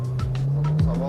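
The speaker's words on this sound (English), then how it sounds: "Bit of wheel spin." An older Lada accelerates hard from a standstill at a test track with brief wheel spin, its engine note climbing and tyres chirping in short bursts close by.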